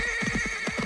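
A horse neighs in the 1992 film Army of Darkness, a short whinny with a few quick pulses and a hint of hoofbeats, set against a steady background bed of film soundtrack noise.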